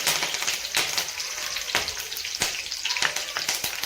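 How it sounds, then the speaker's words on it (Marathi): Garlic cloves and curry leaves sizzle and crackle in hot oil for a spinach dal, a dense steady frying hiss broken by sharp spattering pops, close and fairly loud. "लसणाच्या पाकळ्या पण मी तेलात टाकून घेतलेल्या आहेत आणि त्यामध्ये आपल्याला थोडासा कढीपत्ता पण टाकून घ्यायचा आहे"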